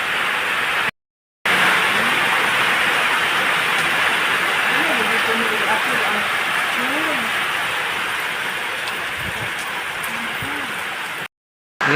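Heavy typhoon rain roars as a dense, steady wash of noise with wind, brief cutouts and faint voices buried beneath it.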